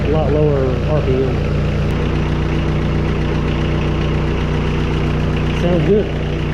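The diesel engine of a 1998 WoodMizer LT40 Super Hydraulic sawmill idles steadily at low RPM with a constant, close rumble and some knocking, while someone talks briefly over it.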